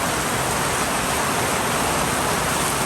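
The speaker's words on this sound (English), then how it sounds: "We're getting a storm." Storm wind and rain outdoors by a porch ahead of an incoming hurricane, a loud, unbroken broadband roar with no variation, close and filling everything, no voices.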